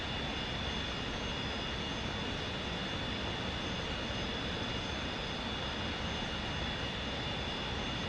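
Steady, dense roar of an F-86F jet engine idling in the DCS flight simulator, a constant broadband hum with a thin high whine, unchanging and alone throughout.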